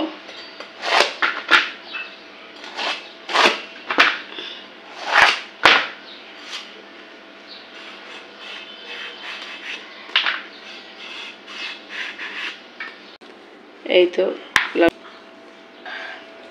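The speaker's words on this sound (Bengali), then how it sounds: "এই তো এখন আমি লাউটাকে এইভাবে করে কেটে নেব।" A knife cuts through a bottle gourd (lau) in a series of close, loud, rasping strokes, each a short swish, with a few quicker scraping cuts near the end.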